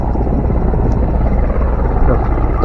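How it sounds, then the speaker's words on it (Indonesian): A helicopter carrying a water bucket, apparently for firefighting, drones steadily overhead as a loud, continuous rotor and engine roar that fills the whole stretch without pausing. "Ini helikopter."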